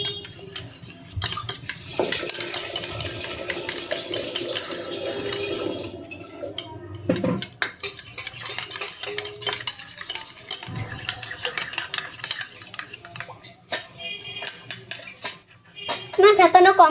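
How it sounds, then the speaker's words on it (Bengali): A mixture being whisked in a bowl in a home kitchen, with steady scraping and clinking of the utensil against the bowl. It runs continuously at moderate volume, with faint cooking sounds in the background. "তখন আমি ফেটিয়ে দিলাম, ফেটানো আমার হচ্ছে।"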